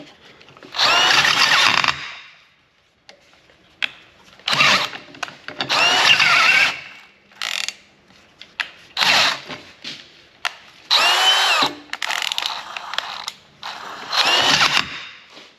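A new power drill with a new sharp bit whines in repeated bursts, biting hard into a steel truck frame rail, with short pauses between each run of drilling.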